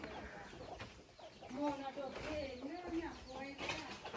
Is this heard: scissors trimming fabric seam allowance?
no